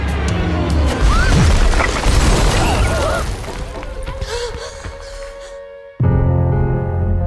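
Loud, dense booms and crashes of bombs exploding during a wartime air raid in a film trailer, a rumbling barrage that thins toward the end before a sudden new impact, with orchestral music and voices mixed in.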